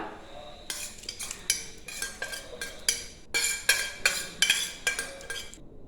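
Kerala rasam with crushed garlic, shallots, cumin and pepper being stirred in a metal pot, a close series of about a dozen rhythmic scraping and clinking strokes of a spoon against the vessel.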